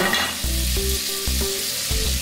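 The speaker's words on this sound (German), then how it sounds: "Sobald die Butter sich aufgelöst hat, packe ich das Salbei mit rein, frittiere das ein bisschen" Sage leaves fry in melted butter in a pan, a steady close sizzle with no voices, while low tonal hum and music-like notes run underneath.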